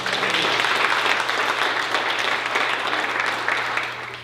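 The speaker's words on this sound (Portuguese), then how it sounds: "Ele merece essa salva de palmas, ele merece." A church congregation breaks into sustained applause after a sermon, a dense wash of many hands clapping at steady loudness for several seconds, with a low steady hum underneath.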